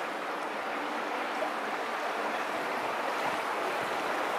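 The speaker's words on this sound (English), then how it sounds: "to my left, there's a small creek." A small creek flows beside the medieval defensive walls of Brasov, Romania, as a soft, steady rush of water that continues unbroken and stays fairly quiet throughout.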